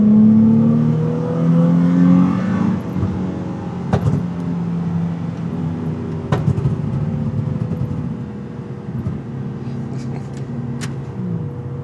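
A tuned Nissan 350Z accelerates in first gear at part throttle, its engine note climbing loudly then dropping as the revs settle, heard from inside the car.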